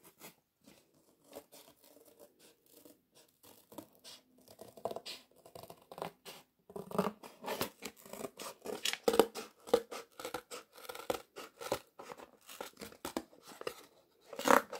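Scissors cutting through rigid cardboard, a string of crisp snips and scraping crunches that start sparse and quiet and become louder and denser, with no speech.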